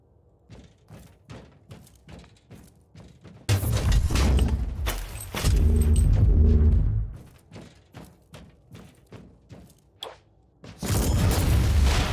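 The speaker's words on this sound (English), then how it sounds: "Goddamn fucking explosions." Explosions in the video game Warhammer 40,000: Inquisitor - Martyr: repeated thuds lead into loud, sustained booming blasts that swell and fade, with a final heavy burst near the end.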